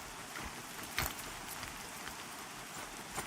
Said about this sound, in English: Ooh, look at that rain. Those sound effects are grand.